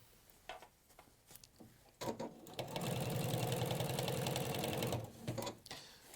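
A sewing machine stitching an undercollar onto a shirt body with a 1 cm seam allowance. It starts after a few light handling clicks, runs steadily and loudly for about three seconds, then stops with a few more clicks.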